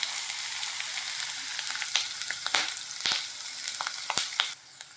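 Chopped carrots, beans and green chillies fry in a kadai, a steady close crackling sizzle with sharp pops and spatula scrapes, no talking, easing off at the end.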